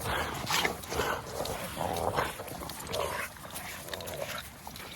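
An XXL puppy making small whimpering and yipping noises in short bursts, close by and fairly quiet.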